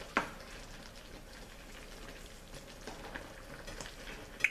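Pork chops and onions braising in a pan give a soft, continuous sizzle and bubbling crackle, fairly quiet, with a couple of sharper pops and no talking over it.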